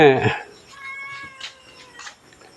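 A cat being rehomed at Wat Pong Chai in Chae Hom, Lampang, lets out several short, clear meows right after a brief burst of a person's voice, then softer mewing fades out.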